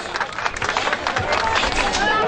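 Outdoor crowd clapping at the opening of a municipal skate park, a dense, fairly loud burst of applause mingled with chatter, holding steady for a couple of seconds.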